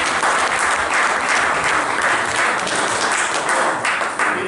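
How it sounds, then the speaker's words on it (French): Audience at a dog competition applauding, a dense, steady wash of clapping from many hands that carries on without a break and fades a little near the end. "il faut les applaudir"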